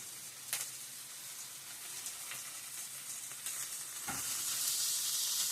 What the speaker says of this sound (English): Now I'm going to flip these pieces over carefully so as to not scratch the pan.